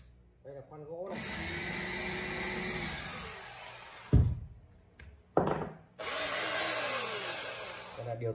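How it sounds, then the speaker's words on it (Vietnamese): Wood drill bit on a 220V power drill, run in bursts: a steady loud whine for about three seconds, a thump, a short second burst, then another sustained run, with brief handling knocks between. "Đây là khoan gỗ này."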